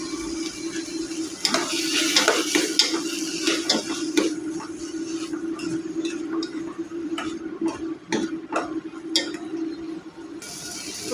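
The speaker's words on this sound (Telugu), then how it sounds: "అల్లం వెల్లుల్లి పేస్ట్ ఒక అర స్పూన్ వేసుకొని బాగా పచ్చివాసన పోయేదాకా వేసుకోవాలి" Ginger garlic paste fries in a pan for a tomato and drumstick curry, with a steady sizzle and repeated ticking scrapes of a spoon stirring against the metal.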